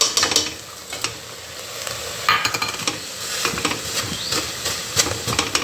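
Drained chana dal and jaggery stirred in a pan over a lit gas flame for puran, with steady scraping and a soft sizzle running throughout, close and continuous.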